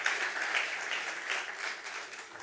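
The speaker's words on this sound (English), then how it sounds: "Please welcome him with a round of applause." Sustained audience applause at a yachting and energy boat conference in Monaco, dense steady clapping from a sizable crowd throughout, with no talk over it.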